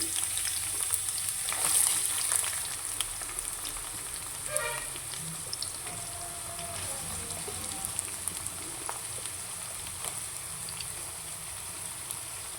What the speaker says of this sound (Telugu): ఆయిల్ హీట్ అయిన తర్వాత ఆనియన్ వేసుకుంటున్నాను